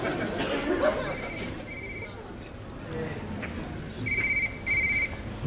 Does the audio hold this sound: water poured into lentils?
no